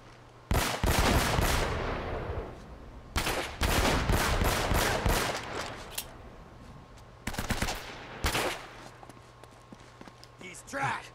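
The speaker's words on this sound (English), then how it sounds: "Can you stop shooting the wall, please?" Gunfire in Uncharted comes in several loud bursts of rapid automatic shots separated by short pauses, with clattering, footstep-like sounds between volleys.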